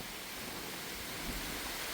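Heavy unseasonal rain pours down hard enough to flood the area behind a house, a constant, dense hiss of water with no breaks or voices.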